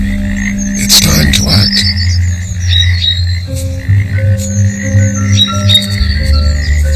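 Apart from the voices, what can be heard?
male frog croaking at a thawing pond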